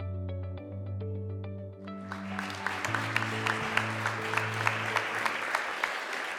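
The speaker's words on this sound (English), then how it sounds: "A big round of applause and congratulations to Linda Wardell" Applause from an awards-event audience rises under sustained music, a soft wash of many hands clapping that stays steady and moderately distant for several seconds.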